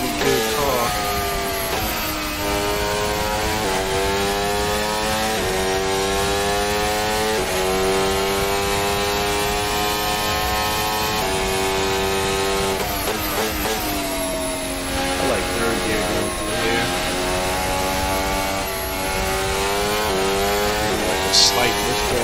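A race car's engine in a VR racing game drones loudly and continuously, its pitch climbing through repeated gear changes and dropping as it slows for corners, with no pauses across the run.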